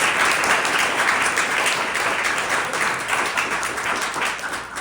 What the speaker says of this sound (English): So round of applause for John, guys.